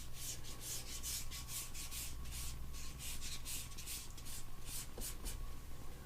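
A Mandalorian helmet visor is trimmed with quick, rhythmic rasping strokes, a steady run of short scraping bursts heard close up and fairly quiet.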